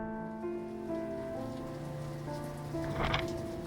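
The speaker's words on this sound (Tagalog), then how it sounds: "Malakas din ang patak ng ulan na naririnig sa aming bubong." Steady heavy rainfall drumming on a house roof during a typhoon, with a continuous dense patter and a brief louder swell near the end.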